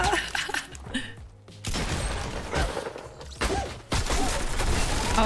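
Gunfire in Fortnite: Battle Royale during a late-game fight, with bursts of shots and impacts that stop for a moment, then resume with dense, loud rapid fire.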